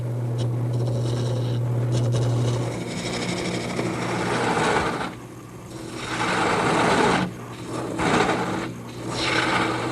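A gouge bead-cuts a rib on a turned bed post spinning on a wood lathe, giving a steady loud rasping, scraping hiss with a motor hum beneath, briefly easing off twice as the tool is lifted.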